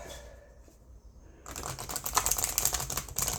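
Quiet room tone gives way to a rapid flurry of papery flicks and slaps as tarot cards are shuffled close by.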